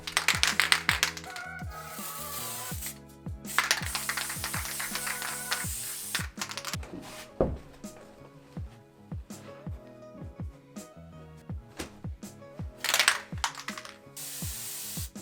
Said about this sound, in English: We might be resorting to spray adhesive again.